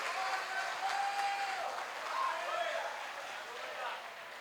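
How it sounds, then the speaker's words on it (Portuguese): A church congregation applauds during a thanksgiving service, a broad, steady wash of clapping lasting throughout, with faint voices and tones mixed in. "Você pode aplaudir a Deus com força?"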